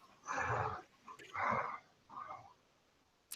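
A dog named Trixie gives a few hoarse, breathy bark-like calls, three rasping bursts close by, as if its voice is nearly gone.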